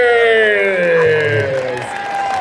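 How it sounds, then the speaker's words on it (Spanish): Applause and cheering from a crowd at a live show at a venue called La Cueva, a steady wash of clapping and whoops. Loud voices and music tones run over it. "Bríndeles el aplauso"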